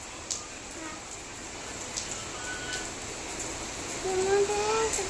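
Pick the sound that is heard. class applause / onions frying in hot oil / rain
rain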